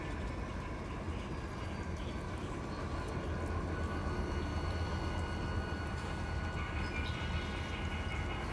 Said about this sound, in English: we uncoupled from the train and just pulled the three cars we needed up